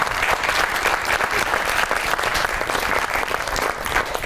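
Steady audience applause at a comedy show, dense and even throughout with no talk over it.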